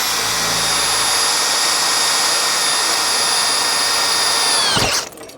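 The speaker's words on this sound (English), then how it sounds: "This is a standard Makita cordless drill." A standard Makita cordless drill with a brand-new bit bores into a trailer lock with a loud, steady, high-pitched whine for about five seconds, then cuts off abruptly.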